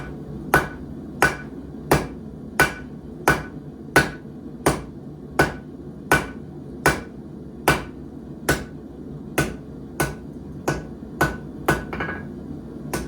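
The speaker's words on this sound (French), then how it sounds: "Je le tourne un quart. Je donne un coup de marteau." A hammer strikes hot metal on an anvil while a point is forged, about twenty sharp ringing blows in a steady rhythm roughly every two-thirds of a second, close and loud with a low hum beneath and no speech.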